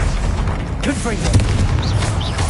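A Confringo blasting curse from a Harry Potter video game bursts in a dense, booming blast, with whooshing spell effects swirling through the din for a couple of seconds.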